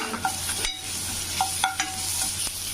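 Ginger garlic paste frying with onions and curry leaves while a spoon stirs, a steady close sizzle broken by a few sharp scrapes and taps against the pan.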